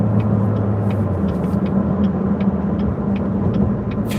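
Corvette C7 Z06 with a manual gearbox pulling away, its engine giving a loud, steady low rumble heard from inside the cabin, with faint clicks above it.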